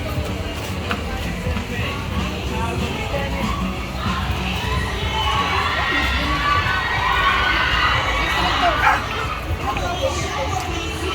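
A busy crowd of guests at a farm chatters and shouts, with children's voices and dogs barking through the steady, lively din.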